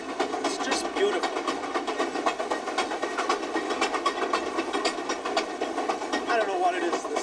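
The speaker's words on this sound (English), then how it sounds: "I don't know what it is, the sound, the feel, the smell even of the diesel locomotive." A diesel locomotive-hauled passenger train rolls across Canada, a steady rhythmic clatter of wheels over rail joints with a rumbling engine drone, heard from on board with people talking beneath it.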